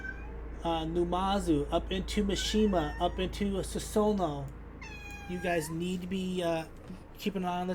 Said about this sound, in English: I do have 2 cats, and one of the cats just wants to be a little vocal.